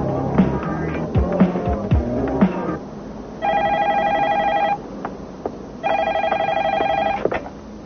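A telephone rings twice in bursts of electronic trilling, loud and close, after a stretch of talk and movement in a room.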